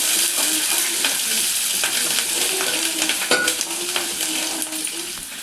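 Ginger, garlic and curry leaves sizzle in hot oil for a tempering, a steady close frying hiss broken by scraping stirs and light clinks of a spoon against the pan.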